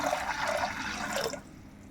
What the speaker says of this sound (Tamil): பட்டாணி மூழ்கிற அளவுக்கு நம்ம தண்ணி ஊற்றிக்கலாம்.